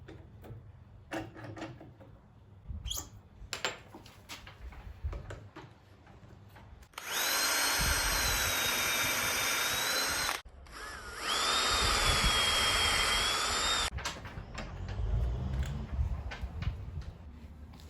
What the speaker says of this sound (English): The pocket hole screw will provide the clamping force to hold the ends together while the glue sets.